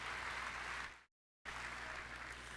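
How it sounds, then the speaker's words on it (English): Audience applause at an awards ceremony, a steady broadband clapping that fills the room, cuts to silence for a moment, then resumes at the same level. "How about a round of applause for them, making it all happen here for tonight's Black Knight Awards."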